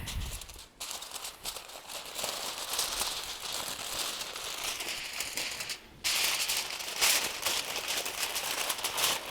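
Aluminium foil crinkles and crumples continuously as it is pressed and wrapped over beef short ribs beside an offset smoker, close and steady with brief pauses.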